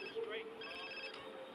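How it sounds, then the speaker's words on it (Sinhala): A phone rings inside the video game GTA San Andreas, played on mobile, giving a short electronic ring with a steady tone that sits under and alongside a voice. "මෙතනට ඇවිල්ලා දැන් කෝල් එකක් ආවා."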